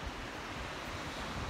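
Sea surf on a beach at Benidorm, Spain, washes against the shore as a steady broadband roar, with some wind rumble mixed in and no voices.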